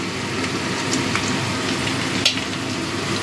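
Chopped onion frying in oil with panch phoron after potatoes, a continuous moderate sizzle with a brief clatter partway through.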